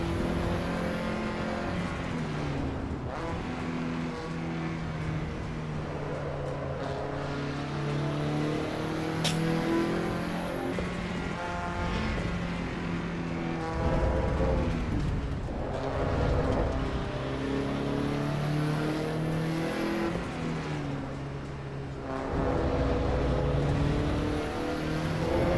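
Lancia Integrale engine in a racing simulator game, revving up and down through gear changes with surging and dropping pitch, loud and close, no voices over it.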